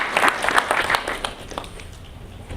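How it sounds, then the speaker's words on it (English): Audience applause at a model CHOGM event in Manchester, a brief burst of hand clapping that swells then fades over a couple of seconds, fairly close and moderately loud. "Round of applause, Faith."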